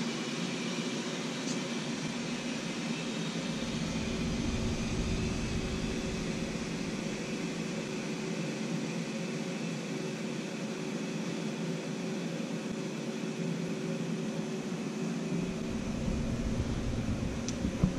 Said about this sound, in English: now I'm just going to remove the air, the vacuum.